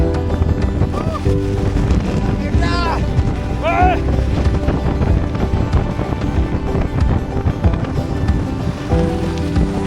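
A storm wind roars across the summit of Mount Slamet, a constant loud rushing under brief spoken words and a short high call.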